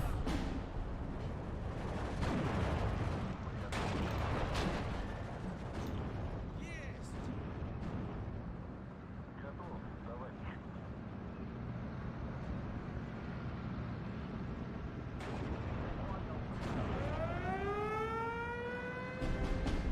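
Heavy 122 mm and 152 mm artillery guns fire in the video game Steel Division 2, distant booms and rolling explosions spread through the scene, followed near the end by a rising siren-like whistle, with someone talking throughout.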